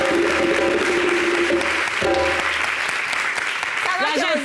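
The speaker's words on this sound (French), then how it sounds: "On applaudit les deux invités." Studio audience applauding two guests on a television talk show, loud continuous clapping mixed with background music and some voices, swelling steadily throughout.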